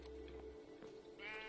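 A Minecraft sheep gives a single short bleat, which grows clearer and rises toward the end over a steady backdrop of game ambience.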